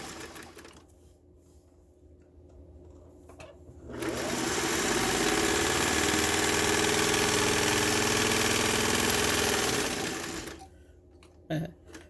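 A household sewing machine runs in one steady, loud burst of stitching for about six seconds, starting abruptly after a quiet stretch and stopping just as suddenly, with faint handling noise before and after.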